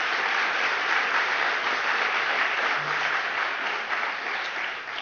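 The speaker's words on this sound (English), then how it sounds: "Can we please give our chief cultural officer a big round of applause?" An audience applauds warmly for a chief cultural officer at a Creative Philadelphia event, a steady, dense wash of many hands clapping continuously from start to finish, fairly loud and even, with no speech over it.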